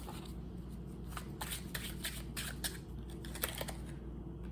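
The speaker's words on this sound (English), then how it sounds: "I'm gonna throw one card down for you." Playing cards are shuffled and dealt at close range, with soft riffling and flicking bursts coming in irregular clusters over a steady low background hum.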